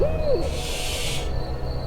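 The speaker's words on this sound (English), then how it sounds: "A screech owl cried out as it tore into something alive." A screech owl gives a single eerie wavering cry, set against a low ambient night background with a brief hiss of rustling noise that follows.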